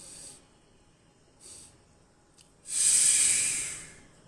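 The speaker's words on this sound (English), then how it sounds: "Now breathe, breathe out like that." A person doing a breathing exercise exhales deeply: two short soft breath puffs, then one long, loud, hissing breath out close to the listener, with no talk.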